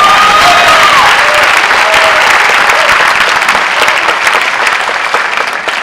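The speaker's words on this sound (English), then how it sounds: "if we could give him a round of applause" A loud round of applause fills a high school senior awards ceremony, an audience clapping densely and continuously, with a few brief cheers near the start before the sound eases slightly toward the end.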